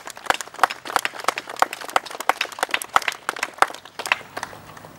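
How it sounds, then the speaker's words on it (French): At a commemoration of the 18 June 1940 appeal, the crowd claps for two children of the municipal children's council. A small, sparse round of individual claps rings out, fairly close, as distinct separate hits without a dense roar. "je pense qu'on peut applaudir nos deux enfants du Conseil municipal des enfants"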